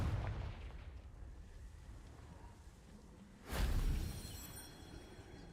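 A Confringo blasting spell explodes in a wizarding video game: a single muffled boom bursts out midway and fades into a low rumble. Quiet background noise fills the rest.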